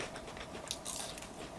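Someone bites into grilled chicken at home, with soft close chewing and a brief crunchy crackle over light background noise.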